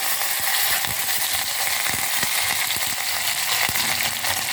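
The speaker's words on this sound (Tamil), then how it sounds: "இந்த கருவேப்பிலையும் பச்சை மிளகாயும் போட்டிருக்கேன்." Curry leaves and green chillies sizzle steadily in hot oil while tempering for a pumpkin sambar, a dense, continuous frying hiss with small pops and clicks throughout.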